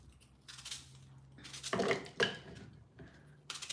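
Unpeeled apples sliced on a cutting board for a cold green smoothie, giving a few short, close knife chops and clinks in a quiet kitchen with no talking.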